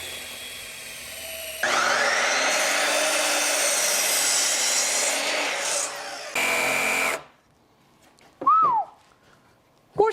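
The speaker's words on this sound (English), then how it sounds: "It will drill. I'll start drilling your way. And I'll start drilling yours. We'll meet in the middle of these pine 4x4s." Power drill boring into pine 4x4 lumber, a loud whining bite of about five seconds followed by a shorter burst, then quiet with a brief whistle-like squeak.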